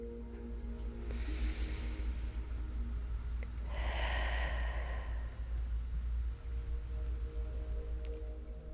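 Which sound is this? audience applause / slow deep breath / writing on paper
slow deep breath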